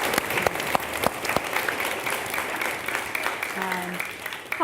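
Warm applause from an audience welcoming author Francesca Simon as a guest at a reading and writing event, steady clapping through the whole stretch with a few sharper claps standing out, fading slightly near the end.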